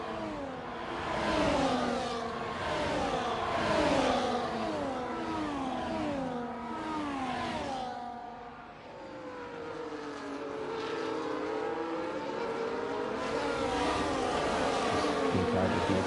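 Racing cars in a Tier 1 Great Britain league race howl through shifting, rising and falling engine notes, several machines overlapping continuously, loud and close throughout.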